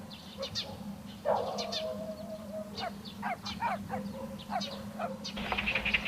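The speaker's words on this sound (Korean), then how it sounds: "반가운 손님이 오려나 까치들이 유난히 부산스럽다." Magpies chatter noisily in a quiet countryside village in autumn, harsh rattling calls in quick bursts over several seconds, fairly near, above a steady low background hum.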